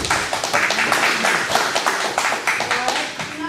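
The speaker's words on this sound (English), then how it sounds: "I'll give a round of applause" Children at a GAA club coaching session give a round of applause, a burst of close, rapid, uneven hand claps that carries on steadily for a few seconds.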